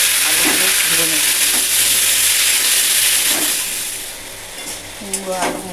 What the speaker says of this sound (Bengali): পেঁয়াজটা ভাজা হয়ে গেছে, আমি এর মধ্যে আলুগুলো ভেজে নেব।